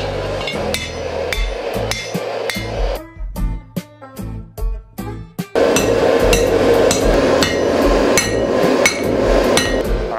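Repeated hammer blows ring sharply on metal while forging a battle axe, a steady run of strikes, then a brief pause with a few isolated clangs before loud hammering resumes.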